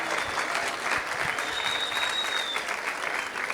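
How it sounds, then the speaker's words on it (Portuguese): A crowd at a Lusitano horse festival political panel claps loudly for the governors, a thick, continuous ovation with a few sharper hand strikes and a brief whistle riding over it. "uma salva de palmas aos governadores"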